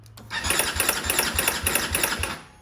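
A small BMW G 310 GS motorcycle engine cranks and catches, settling into a fast, rhythmic chugging idle close by.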